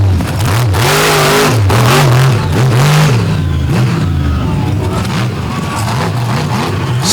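A Hardy Chevrolet–sponsored drag race car at a night event in Benson, North Carolina, revs hard, the loud engine rising and falling in repeated surges close by.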